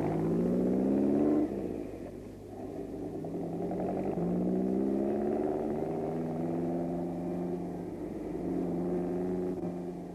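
A car engine in a Marathi stage play revs up and pulls away for a ride, its steady rising drone climbing in pitch and easing off and building again for about ten seconds, moderately loud with no voices.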